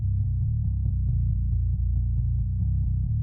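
A deep, compressed metal bass guitar chugs out tight, even low notes in a steady driving rhythm, punchy and dense with almost no top end.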